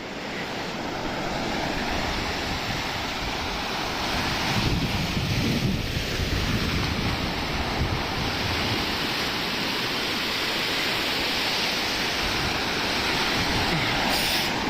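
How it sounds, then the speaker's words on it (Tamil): Rough sea surf breaking on the sandy shore of Varkala beach, a steady, full roar of waves that carries on without a break, mixed with gusty wind buffeting the microphone and no voices. "கடல் கொந்தளிப்பா தாங்க இருக்குது ஃபுல்லாகவே"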